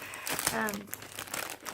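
A book-mail package is torn and crinkled open by hand without scissors, with bursts of crumpling paper or plastic and a person talking over the rustling.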